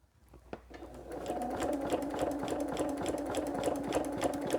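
A sewing machine quilts a Santa cookie rug, its needle running in a rapid, even stitching rhythm that speeds up from a slow start, close and fairly quiet.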